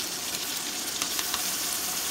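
Tomatoes and ginger-garlic paste go into browned onions in a pan, bringing a dense, steady hiss of frying with light crackle throughout, close and continuous, with no talking.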